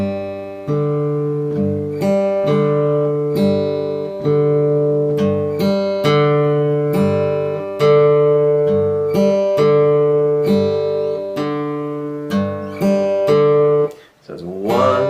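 Fingerstyle acoustic guitar plays an arpeggio pattern in a steady cycle with an extra sixteenth note slipped in on beat two, clean and close, fading near the end.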